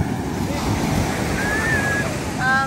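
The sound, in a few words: ocean waves crashing on the shore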